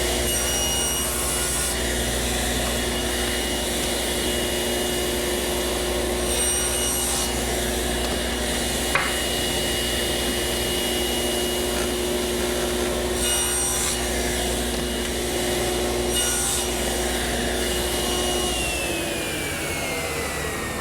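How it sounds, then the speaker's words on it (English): A table saw set 3/8 inch above the table runs continuously while cutting tenons around the edges and faces of wooden rails, giving a loud, close, steady whirring rasp with brief changes in tone as each pass is made. "I've set the saw 3/8 of an inch above the table, and I'll make a cut on each edge and each face all the way around."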